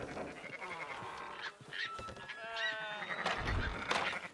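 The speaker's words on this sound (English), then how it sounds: "Fine sheep." Sheep bleating in the Red Dead Redemption 2 video game, several wavering drawn-out bleats close by over a low background, with some overlapping calls.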